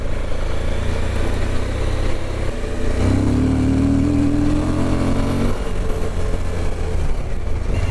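A Suzuki V-Strom 1050 motorcycle engine drones steadily while riding off-road on dirt, loud and close, its pitch rising briefly midway as the rider accelerates, then settling back, with no talking.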